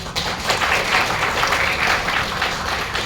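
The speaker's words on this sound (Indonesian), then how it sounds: "Boleh tepuk tangan Bapak Ibu?" An audience claps at the end of a government accounting and reporting training session, a broad, even wash of many hands that holds steady, moderately loud and without talk.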